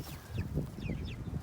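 Chickens clucking softly and repeatedly close by in a farmyard, short throaty calls in a quick uneven rhythm.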